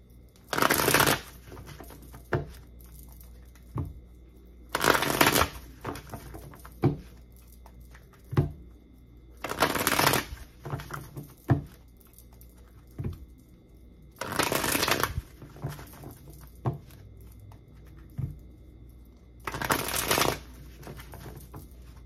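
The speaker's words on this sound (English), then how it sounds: "I'm gonna shuffle all the cards out" Cards are shuffled in repeated bursts about every five seconds, crisp riffling flurries separated by quieter taps and handling.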